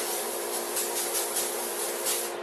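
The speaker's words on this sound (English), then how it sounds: "we're going to spray the pan with the Pam" Pam cooking spray hissing onto a frying pan before scrambled eggs are cooked, a steady close hiss lasting a couple of seconds with slight pulsing.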